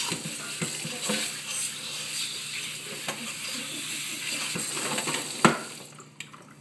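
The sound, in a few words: kitchen sink sprayer washing celery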